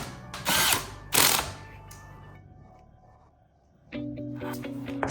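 Two quick bursts of a small power driver or ratchet drive screws into an RC car chassis rear, then a quiet pause before clattering mechanical handling noise resumes nearby.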